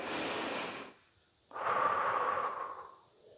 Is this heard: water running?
no